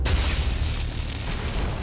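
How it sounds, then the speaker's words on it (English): Explosion in the space strategy video game Battlefleet Gothic Armada II: a loud, sustained rumbling blast with heavy low-end roar and crackling debris, steady throughout with no talk. "That was an amazing explosion."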